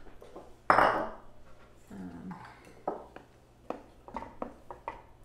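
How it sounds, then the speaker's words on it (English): Cauliflower soup stirred in a pot, with a loud metallic clank of a spoon against the pot followed by lighter scattered clinks and scrapes. "And now I can just stir it together."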